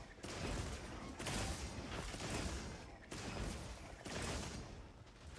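Rapid weapon fire during a monster hunt in a video game, several quiet, rhythmic bursts of shots repeating in clusters with brief pauses between them.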